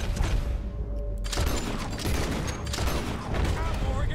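Gunfire from the video game Red Dead Redemption: a rapid, loud volley of overlapping shots and bangs fills the scene, with a short gap before the firing resumes.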